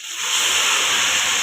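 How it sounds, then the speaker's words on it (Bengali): Cabbage tipped into a hot pan where fish is frying gives a loud, steady hiss of steam and oil that swells quickly and holds, close and continuous with no voices. "এবার এর মধ্যে আমি বাঁধাকপি এর মধ্যে ঢেলে দিলাম"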